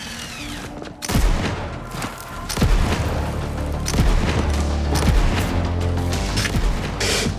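Dense gunfire and booming impacts fill a combat scene in the video game Borderlands 3, loud and continuous with heavy low rumble and sharp shot transients, no talking.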